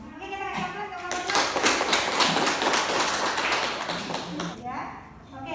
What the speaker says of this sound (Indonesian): Oke, kita kasih aplaus ke kelompok